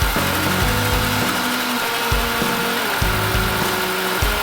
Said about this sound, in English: we're gonna put this piece on the lathe and sand it down that way